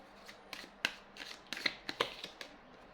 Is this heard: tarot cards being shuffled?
yes